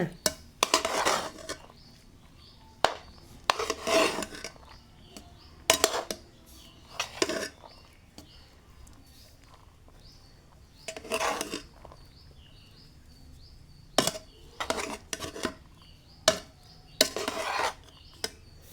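A metal spatula scrapes and clanks against a pan in short, irregular bursts of mixing paneer fried rice, with quiet pauses between, no voices.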